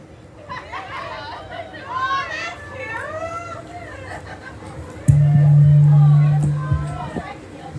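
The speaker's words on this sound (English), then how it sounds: "I hear noise in the crowd. That's good. That's a good sign. They're getting rowdy, though." Rowdy crowd at a barbershop gathering over a Fourth of July weekend, children and adults chattering and calling out in a lively babble, with a sudden loud steady hum cutting in near the end.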